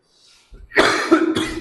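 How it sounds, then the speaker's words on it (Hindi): A person coughs hard in a short burst, close and loud, a couple of rough hacks following a faint breath, in an indoor lecture setting. "सॉरी, खांसी है ज्यादा"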